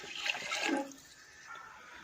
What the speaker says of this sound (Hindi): इसलिए हम 6 गिलास पानी डाल रहे हैं इसमें